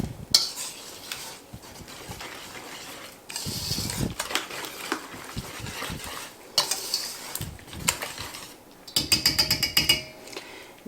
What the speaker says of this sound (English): And now we are going to stir that together.